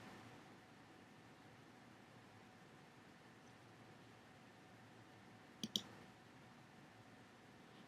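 Two quick computer mouse clicks on a Facebook Like link, sharp and close, standing out from a long stretch of faint hiss.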